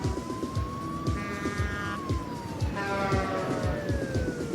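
City traffic with a rolling car engine hum and rhythmic road noise, while an emergency siren wails and slides in pitch above it, loud and steady throughout.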